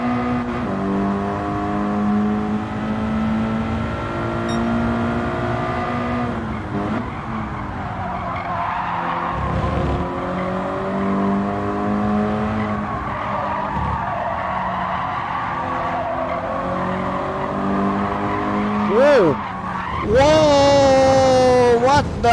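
Race car in Gran Turismo 7 sliding sideways out of a corner, tires squealing in long wavering tones over a steady engine drone, with a sharp rising squeal and rev burst near the end; a voice talks briefly.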